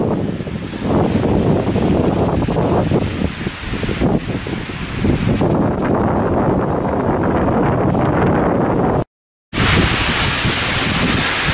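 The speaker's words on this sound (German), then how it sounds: "Ist das nicht schön, so ein Sturm im Wald?" A strong Föhn wind storm roars through a mountain forest on a high pass, thrashing the trees in a loud, continuous broadband rush. It cuts out for a moment near the end, then resumes.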